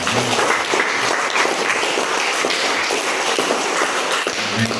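Steady, dense applause from a classroom of vocational high school students during an interview session, filling the whole stretch at a constant, fairly loud level with no break.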